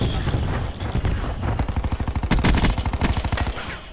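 Gunfire in a Call of Duty: Black Ops 4 Hardpoint match: loud, close automatic bursts rattle in quick succession, with rapid shots stacking up through most of the moment.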